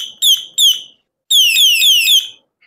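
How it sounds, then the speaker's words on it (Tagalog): A bike light's horn buzzer gives out loud, falling electronic zaps like a sci-fi blaster: two short bursts, then a longer warbling run of repeated descending tones, close and alone. "testingin naman natin yung busina"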